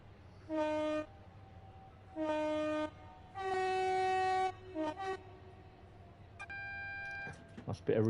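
Train horn in the Train Sim World 4 game on the Southeastern Highspeed line near Chatham, sounding in several long two-tone blasts with a reverberant tail, followed by a higher, thinner horn call.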